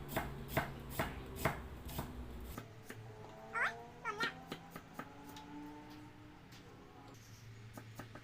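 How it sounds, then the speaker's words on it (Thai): A knife chops red shallots on a board in a quick, steady run of close, crisp thuds that slows to scattered cuts, while a cat meows nearby. "หั่นหอมแดงก่อนพี่น้องผั"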